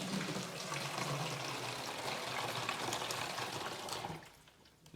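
Leftover fountain soda is poured into a water refill jug: a continuous splashing stream of liquid runs for about four seconds, then tapers off, with no talking.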